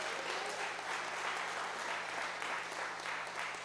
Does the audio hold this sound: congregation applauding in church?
yes